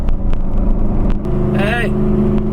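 Straight-piped Ford GT accelerating: a loud, close engine roar with rising pitch, mixed with a voice and rustling, under strong interior noise.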